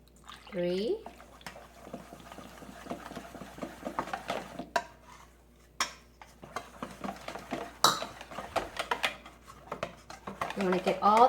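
Wheat flour and water are stirred in a bowl with a utensil, giving uneven scraping and clinking against the sides, quiet and close, with brief liquid sounds.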